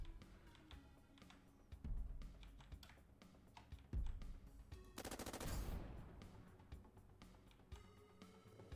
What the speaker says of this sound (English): Gotta remember the light machine gun on this thing is actually useful.